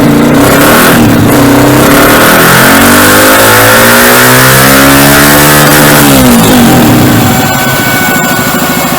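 A running engine, tied to an Athlon M250 engine control module and logged by a datalogger, is revved with pitch sweeps rising and falling before settling toward a steady idle; loud, close and continuous, with no talking.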